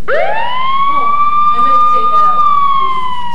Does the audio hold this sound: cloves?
no